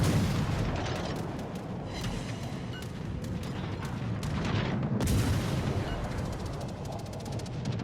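Naval gun salvos and booming shell impacts from World of Warships Legends, with dense overlapping blasts and rumbling explosions filling the whole stretch at steady loudness, a sharp burst near the middle.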